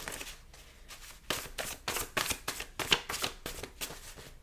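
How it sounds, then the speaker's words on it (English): A deck of pick-a-card tarot or oracle cards is shuffled by hand, giving a series of close, crisp riffling bursts in an uneven rhythm with no talking. "I'll shuffle it 2 more times."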